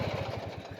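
Simplicity 6515 garden tractor from the 6500 series, fitted with a turbo blower bagger, its engine running with a steady low pulsing throb, close and continuous throughout.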